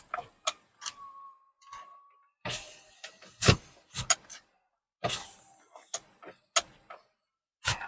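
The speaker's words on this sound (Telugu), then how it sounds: "ఫ్రంట్ మిర్రర్ వచ్చేపాటికి ఆటో పవర్ మిర్రర్ అనమాట అండి" The power-folding side mirror motor on a 2022 MG Astor hums briefly, then mechanical clicks and whirring ticks follow in short separated bursts, close and fairly quiet.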